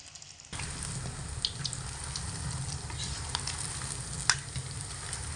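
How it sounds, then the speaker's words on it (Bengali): Gulab jamun balls made from semolina and milk fry in hot oil while being stirred, a steady close sizzle starting abruptly and continuing throughout with occasional light scraping ticks. "এইভাবে অনবরত নাড়াচাড়া করে তবেই কিন্তু গোলাপজামগুলোকে ভেজে নিতে হবে।"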